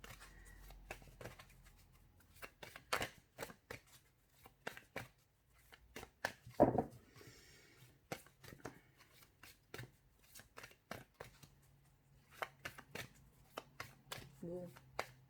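Oracle cards shuffled by hand, a run of crisp riffling and slapping bursts in steady rhythm, close and fairly quiet, with someone talking in French between and over them.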